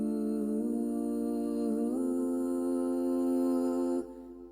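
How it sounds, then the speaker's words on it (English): A sustained sung vocal runs through a TC Helicon VoiceLive 3 harmony preset, stacked with two higher harmonies; the chord holds steadily, shifts pitch once around two seconds, then cuts off sharply near four seconds, leaving a faint tail. "So I've got two higher harmonies."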